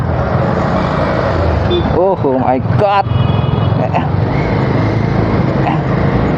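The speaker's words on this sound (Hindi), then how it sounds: "ट्रैफिक जाम हो गया रे भाई अभी" Busy jammed road traffic in Diphu, Karbi Anglong, a constant dense roar of vehicles with short tonal bursts, heard close up while people talk and exclaim.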